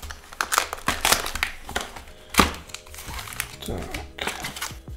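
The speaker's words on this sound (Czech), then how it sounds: "otevřeme si 2 hobby boxy" Foil wrappers of hobby-box trading card packs being torn open and crinkled by hand, crisp close rustling in uneven bursts while a person speaks over it.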